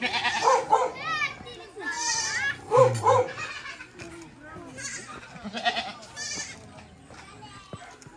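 A young goat bleats repeatedly in short wavering cries, close by, while people chatter and children's voices sound in the background.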